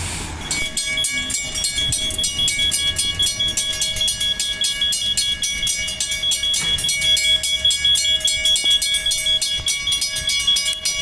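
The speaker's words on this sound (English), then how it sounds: "We're gonna see the next Bassendean train come through this crossing right now." A suburban Bassendean train passes steadily over a level crossing for the whole stretch, with the clatter of the rail cars and the sustained ringing of crossing bells over them, loud and close.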